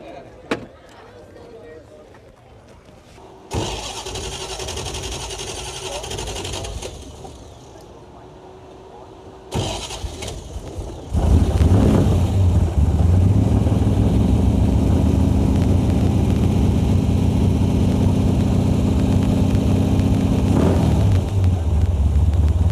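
A vintage car engine cranks and fires up, then settles into a loud, steady idle that runs on, with brief noises and voices before it starts, at a concours d'elegance in Geneva.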